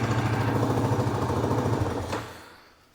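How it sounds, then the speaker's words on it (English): A quad bike engine idles with a steady, loud low chugging, close by, then cuts off and fades to quiet near the end. "So just left the quad there running for a few minutes."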